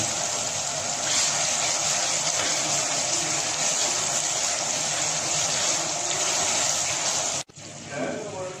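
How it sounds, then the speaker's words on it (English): Water pours steadily into a cooking pot in a dense rushing stream for several seconds, then stops abruptly, leaving a brief quieter moment with faint clatter. "Now I put some water."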